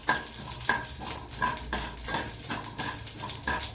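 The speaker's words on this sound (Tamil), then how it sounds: "கடுகு நல்லா பட்டுன்னு பொரிஞ்சதும்" Mustard seeds and urad dal crackling in hot oil, a dense run of sharp close pops and spits over a continuous sizzle, with the occasional clink of a utensil.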